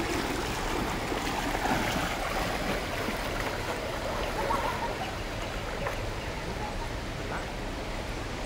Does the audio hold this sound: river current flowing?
yes